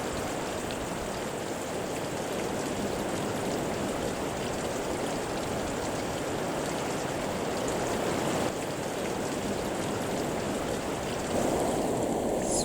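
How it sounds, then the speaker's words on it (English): A forest stream on Vancouver Island flows steadily as a rivulet pours out of the woods, a loud continuous rushing wash of water with no voices. "another rivulet pours out of the forest"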